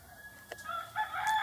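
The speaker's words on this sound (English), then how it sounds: "Yes, Rooster, I know you're agreeing with me." A rooster crows close by, its harmonic call rising in the second half of a short moment with no talk.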